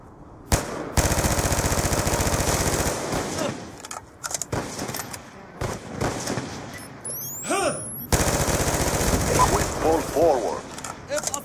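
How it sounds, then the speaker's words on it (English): Rapid automatic gunfire from a Call of Duty deathmatch, loud bursts of sustained fire with short gaps and a few whooshing effects, under occasional player talk. "I just missed about 12 shots at a guy"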